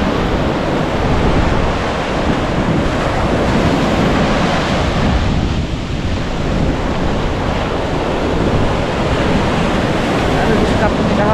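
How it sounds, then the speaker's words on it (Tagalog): Strong, roaring water current and waves at Bucana, Batangas during Typhoon Opong, a loud continuous rush with wind buffeting the microphone and no pauses throughout. "Lakas po ng agos."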